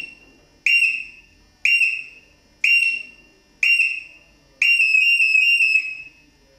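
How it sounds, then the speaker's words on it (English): A shrill electronic boxing gym timer buzzer sounds four separate times at steady intervals, then a fifth, longer blast that pulses several times before stopping. "You get one buzz at the beginning and end of each round"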